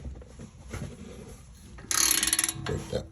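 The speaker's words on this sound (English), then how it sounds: "Break that bolt loose." A half-inch ratchet breaks a tight bolt loose, giving a short burst of rapid, close clicks after a few quieter mechanical knocks and shuffles.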